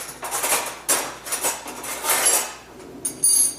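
A regular metal teaspoon scoops cinnamon and clinks against a bowl or jar while making a nut-based pumpkin seed nog, giving several light, close taps and scrapes at an irregular pace with no talking.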